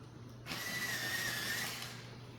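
A colored pencil gets a quick sharpening: a brief mechanical grinding whir lasting about a second and a half, soft and close, with nothing else in the background.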